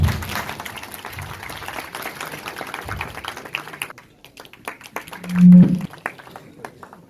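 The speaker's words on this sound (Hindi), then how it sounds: "एक बार सर के सम्मान में जोरदार तालियां।" Audience applause at a youth parliament event at a university in Lucknow, a moderate crowd clapping for several seconds before thinning to scattered claps, with a brief low voice near the end.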